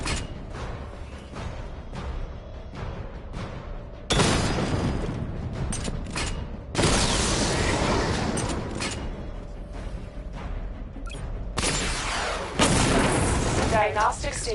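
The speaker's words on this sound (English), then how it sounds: "Missile barrage level 1 ready." Missile barrage explosions in a video game, heavy booming blasts that arrive in several loud broadband bursts over a steady rumbling bed, with mechanical creaks between them and a game voice speaking in places.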